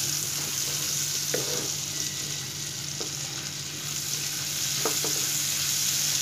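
Chopped onions, rubbed with turmeric and salt, frying in oil for a Bengali hilsa fish fry, giving a steady close sizzle with a few brief stirring clicks and no talk.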